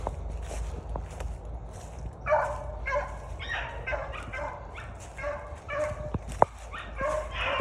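A dog barks repeatedly in short, excited bursts with a few yips while chasing a rabbit, over outdoor rustling and footsteps, fairly close.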